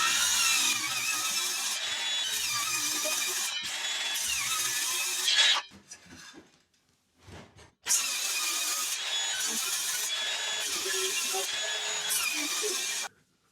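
Handsaw cutting through a floorboard tongue during a 1970s bathroom renovation, two long bursts of rapid rasping strokes separated by a short pause with faint knocks.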